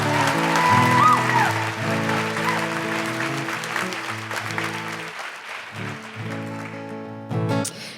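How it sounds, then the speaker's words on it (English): A crowd at a live show in Perth claps steadily and loudly for several seconds while sustained musical chords play underneath, fading slightly toward the end. "Another round of applause, I think, for these guys."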